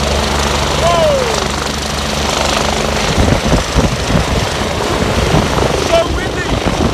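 Helicopters lifting off close by in a backyard setting, a heavy continuous rotor roar with choppy low thumping that swells and grows gustier partway through, loud throughout.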